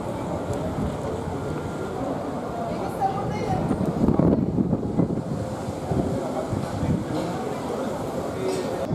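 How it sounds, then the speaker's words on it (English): Strong wind buffets the microphone in a constant low roar at a high spot over the Panama Canal, with muffled voices faintly underneath. "It's really windy up here."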